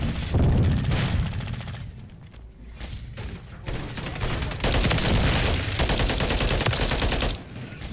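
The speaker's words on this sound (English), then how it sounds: "shooting through the wall." Rapid video game gunfire fired through a wall, loud and sustained across the clip in dense bursts with brief dips, from a JAK Thumper in an online shooter.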